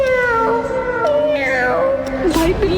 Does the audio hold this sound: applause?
no